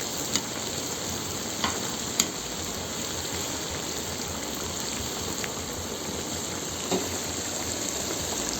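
Rice for Tashkent-style plov is stirred in an oil-filled kazan over an open fire, giving a steady dense sizzle with a few brief scrapes and clicks from the utensil and no speech.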